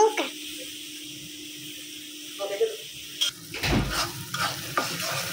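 Spices sautéing in oil in a pan at home, a faint sizzle with a ladle stirring and scraping, a few louder clatters near the end, and a person talking over it.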